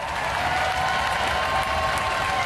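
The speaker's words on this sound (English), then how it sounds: "A round of applause for Steg 2!" Steady, dense applause from a large audience at a Robot Wars event, loud and sustained throughout without a break.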